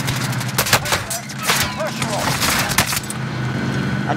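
Automatic gunfire bursts in Call of Duty Warzone, dense and repeated across the whole stretch, mixed with game effects while a player talks over it.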